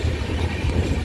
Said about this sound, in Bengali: এখন ট্রেনের স্পিডটা বাড়িয়ে দিয়েছে।